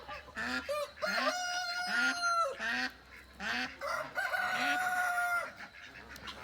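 Several loud, nasal honking quacks overlap in bursts, a noisy flock of ducks at an animal sanctuary calling close by at Pekin ducks, with brief pauses between outbursts.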